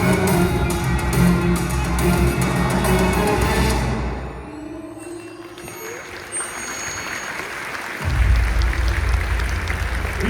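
Audience applause at a Noël Gaulois Christmas show at Parc Astérix: sustained clapping fills the whole stretch, easing slightly in the middle and swelling again near the end.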